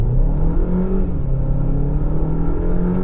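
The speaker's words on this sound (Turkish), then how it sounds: "dip gaz yapalım." A 2021 Renault Megane 1.3 TCe with an EDC automatic gearbox accelerating at full throttle, a loud, steady engine drone and rumble heard from inside the car, rising slightly in pitch, with no voices.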